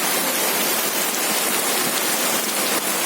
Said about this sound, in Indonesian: Hujannya deras banget. Itu deras hujannya.